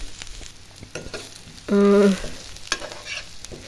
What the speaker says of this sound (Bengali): এখানে আমি শাক বাগা দিতেছি রসুন কাঁচা মরিচ শুকনো মরিচ পেঁয়াজ সব এক সাথে তেলে ভেজে নিছি